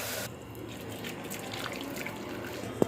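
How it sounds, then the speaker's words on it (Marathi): Water boiled with papad khar is strained, a soft trickle and drip of liquid running through a strainer, quiet and continuous, with a single brief sharp clink near the end. "पाणी घेताना आपण गाळून सुद्धा घ्यायचं आहे"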